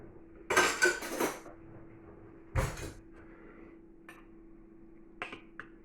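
Cutlery clatters as a spoon is fetched from a drawer in a home kitchen: a few sharp metallic rattles and clinks close by, separated by quiet pauses, with a faint steady hum underneath.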